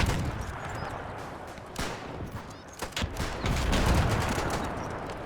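Battlefield gunfire in the WW1 video game Between Empires, with bursts of rifle and machine gun shots crackling together into a dense, continuous fusillade at moderate distance.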